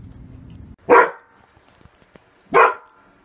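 Dogs on edge barking at home, two loud, sharp, separate barks with a pause between them, close by, after a short stretch of low background noise.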